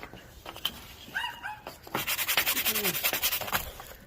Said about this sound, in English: Alright, that's Levi's sanding his down now.